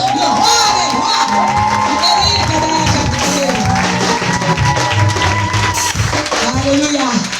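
A church congregation at a French-language seminar cheers, whoops and applauds loudly throughout, a sustained roar of crowd voices with a pastor's voice over it.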